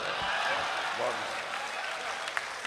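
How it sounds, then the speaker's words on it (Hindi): Audience at an Urdu-Hindi poetry recital (mushaira) applauding steadily, a dense wash of many hands clapping close and loud throughout, with voices faintly mixed in. "एक बार जोरदार तालियां डॉक्टर राहत इंदौरी साहब के लिए"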